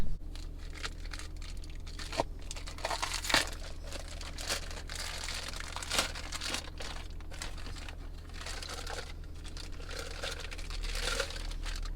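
Plastic wrap crinkling and tearing as a collector's edition item is unwrapped, close and fairly quiet, with continuous crackles and a few sharper rips over a steady low background hum.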